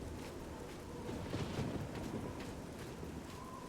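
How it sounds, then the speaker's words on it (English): Wind and rain ambience from the video game Oblivion, a steady soft wash of rainfall and gusting wind, fairly quiet and continuous with a slight swell midway, no voices. "Both the soundtrack and the sound of the wind and rain are so lovely, right?"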